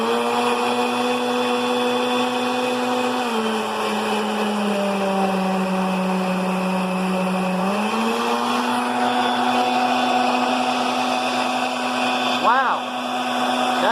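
An old blender runs steadily at liquefy speed, its loud motor whine holding nearly constant, dipping briefly in pitch for a few seconds before climbing back, with a short rising warble near the end.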